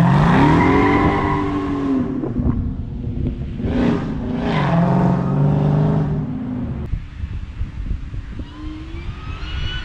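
A tuned Dodge SRT Hellcat launches with wheelspin, its loud engine climbing in pitch as tires squeal, then easing into a lower, rougher roar heard nearby without talk.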